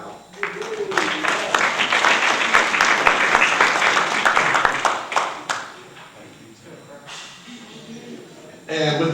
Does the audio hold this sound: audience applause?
yes